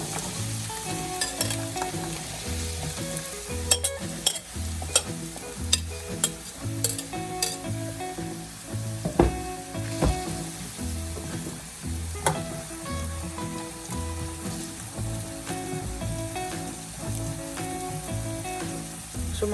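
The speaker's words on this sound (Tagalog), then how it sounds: "So mga 1 to 2 minutes lang po yung pan fry natin dito, no?" Carrots and potatoes pan-frying in preheated oil, a steady close sizzle with scattered sharp crackles and occasional stirring clatter, continuing without pause and with no talking.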